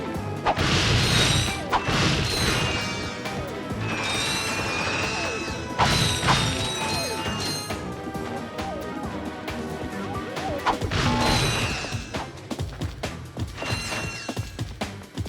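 Crates shatter in the PS2 game Ratchet & Clank on planet Kerwan in Metropolis, a series of sharp smashing crashes with clattering debris and mechanical clicks between the bursts.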